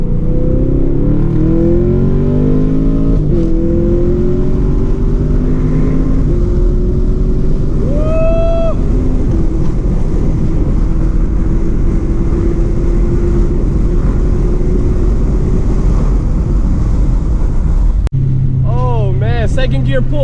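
A 2017 Chevrolet Camaro SS pulls hard in second gear, its loud engine note climbing steadily over about fifteen seconds before a sharp cut, with voices talking over the roar inside the car.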